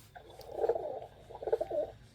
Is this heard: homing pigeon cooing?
yes